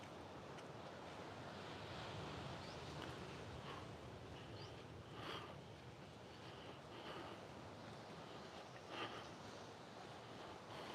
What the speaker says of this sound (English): Lillian, the waves here are amazing at the minute.